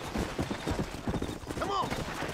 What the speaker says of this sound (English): Horses and cattle.